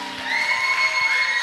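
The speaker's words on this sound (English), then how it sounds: "Let's give her another round of applause." Crowd cheering and whooping at a live talent showcase after a singer's set, a steady wash of voices holding at a moderate level through the whole moment.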